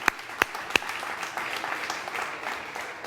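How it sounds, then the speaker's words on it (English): An audience at a conference stage event applauds entrepreneurs walking on, a steady close wash of clapping with a few sharp, loud individual claps standing out in the first second. "let's give these guys a round of applause"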